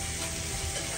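Butter sizzling in a hot pan with a seared lamb shoulder steak, a dense, steady close-up crackle lasting only a moment.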